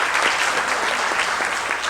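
Brief, steady applause from those attending a solemn session of the Recife city council, a dense wash of clapping hands at an even level throughout.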